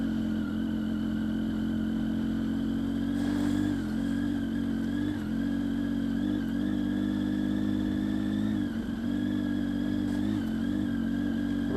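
Triumph Tiger 800 ridden off-road in second gear on Anakee Wild tyres, the engine droning steadily close up with small rises and dips in revs as the tyres slide and spin, with no talking.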